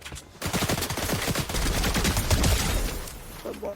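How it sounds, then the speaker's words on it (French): Sustained gunfire from multiple directions in a video game, with rapid bursts and overlapping shots that stay loud and dense, close at hand, with no voices over it. "Je te jure que ça tire de tous les côtés."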